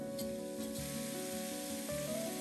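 Minced meat and fermented black beans stir-fried over high heat for fly's head stir-fry, giving a steady, even sizzle through the whole moment beneath a faint tonal backdrop.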